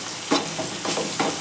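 Ginger garlic paste frying in a pan for chicken biryani, a loud steady hiss close by, with rhythmic scraping stirs about every half second.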